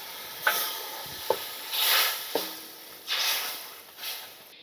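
Soaked tamarind pulusu for an egg omelet curry poured into a hot pan, with sharp clacks followed by swelling hiss and sizzle in repeated waves, close and loud, no talking.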